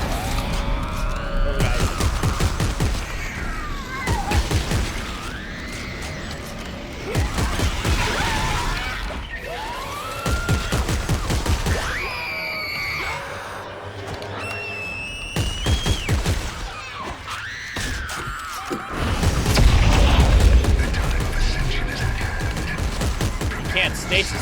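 Dense, rapid bursts of gunfire and crashes from the video game Dead Space 3 play loudly throughout, with sweeping siren-like tones, while players talk over the action.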